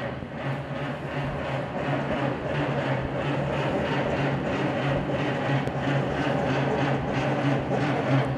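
A Packard straight-eight side-valve engine cranks over steadily, a continuous mechanical churn with a rhythmic pulse, loud and close, without catching and running.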